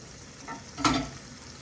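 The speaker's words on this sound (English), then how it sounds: "we're going to stir that a bit, okay? Again, just heating up our spices." Spices heating in a pan for curried cabbage with halloumi, with a soft background sizzle broken by one brief, sharper scrape of stirring, close by and with no talking.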